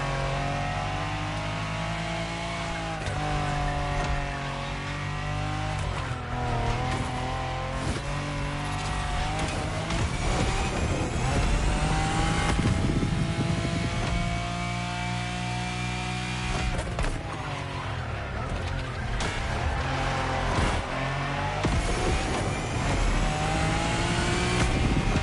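A Lamborghini races in the video game The Crew Motorfest, its engine revving loudly and continuously with shifting pitch, tire squeal and skids, all over game music and effects with no talk.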